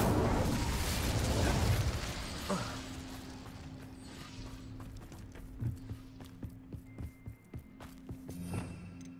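An Incendio fire spell cast in Hogwarts Legacy, with a loud whooshing burst of flame at the start fading into crackling and scattered popping impacts, with brief speech.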